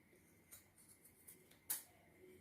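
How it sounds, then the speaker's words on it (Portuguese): Scissors snip through the excess fabric of a sewn unisex zippered waist pouch, giving a few faint, separate cuts and one sharper, louder snip near the end against quiet room noise. "Agora eu vou cortar o excesso"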